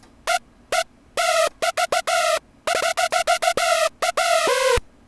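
A bright, buzzy Serum synth screech lead with its sub oscillator off plays a quick staccato run of short notes and a few held ones, harsh and rich in overtones, with gaps between.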